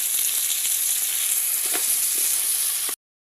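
Beef added to a pan for a beef dum biryani gives a steady, even frying sizzle with a few soft clicks of movement. The hiss holds for about three seconds, then cuts off abruptly to silence.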